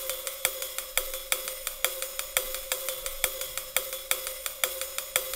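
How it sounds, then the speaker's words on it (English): A ride cymbal plays a steady, evenly spaced pattern of bright, shimmering strokes for a breakbeat, each hit ringing into a wash of noise that fills the gaps, with no talk over it. "Lastly, I added this ride pattern."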